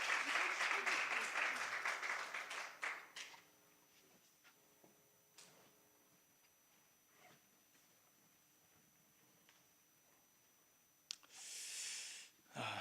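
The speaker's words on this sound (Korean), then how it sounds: "우리 박수로 모시겠습니다." A church congregation at a baptism applauds loudly for about three seconds, the clapping then fading into quiet shuffling and breathing, with a brief burst of noise near the end.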